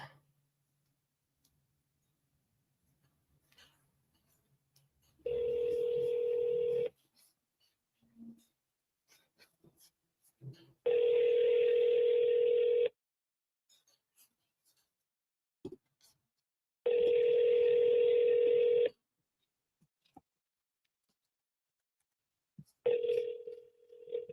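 A landline telephone rings in the earpiece, three long steady ringback tones separated by quiet gaps, with faint clicks and handling noises between them and a fourth tone starting at the end.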